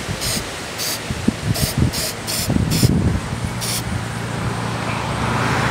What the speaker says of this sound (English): And now we'll spray the top of the lid the same way.